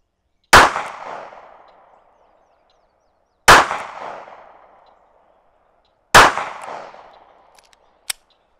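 A pocket pistol fires Golden Saber ammunition outdoors: three sharp, loud reports spaced about three seconds apart, each trailing off in a ringing echo. A faint click follows the last shot.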